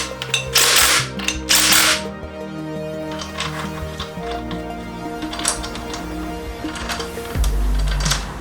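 A ratchet clicks in several bursts while bolts on a BMW E30 flywheel are tightened, loud and close, with sharp rapid pawl clicks and metallic clatter between the strokes.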